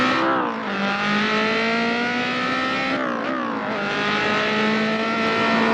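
A small car's engine revs in a racing video game, a steady, buzzy drone that dips briefly and then climbs again, loud and continuous without talking.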